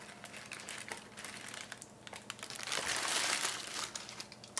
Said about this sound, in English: Carefully peel back the parchment from the rest of the tart.